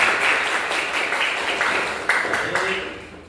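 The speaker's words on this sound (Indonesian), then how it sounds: "Tepuk tangan untuk kita semuanya" Classroom audience of children clapping their hands together, a dense burst of applause that fades out over a few seconds, with faint voices mixed in.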